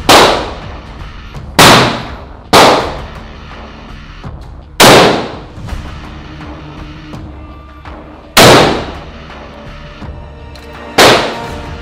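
Gunfire from weapons in the video game Modern Warfare, sniper and shotgun style: six loud, sharp, isolated shots spaced a second or more apart, each with a booming decaying tail, between stretches of quieter handling sounds.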